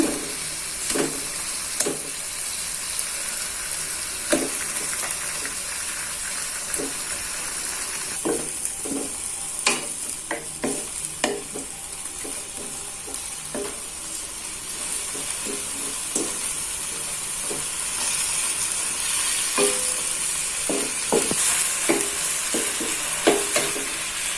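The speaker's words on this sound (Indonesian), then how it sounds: "Nah, ini untuk ayamnya saya masukkan" Chicken dropped into a pan with kaffir lime leaves and stir-fried, a steady sizzling hiss under repeated scraping and clacking stirs that come irregularly but persistently, close and fairly loud.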